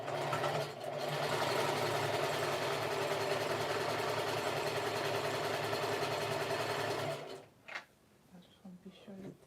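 A sewing machine runs steadily, stitching fabric for a lounge set with encased elastic, a loud continuous mechanical whir for about seven seconds before stopping abruptly, leaving quiet room sound and faint handling noises.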